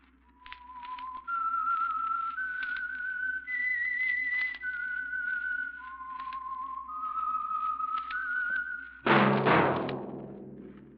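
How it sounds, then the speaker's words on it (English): Whistled theme of the old radio mystery program The Whistler, a lone clear melody of sustained pitched notes stepping up and down, ending in a sudden loud orchestral hit. "That whistle is your signal for the Signal Oil Program, The Whistler."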